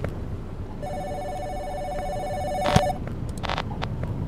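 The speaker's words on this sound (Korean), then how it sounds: "지금 전화 오고 난리야" Telephone ringing in the horror game Giraffe Town: a steady electronic ring tone sounding continuously for a few seconds, fairly clear over a soft background, followed by a few short clicks.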